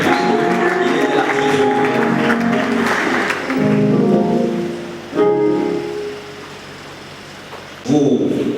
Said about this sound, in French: applaudissons pour Maître Gulin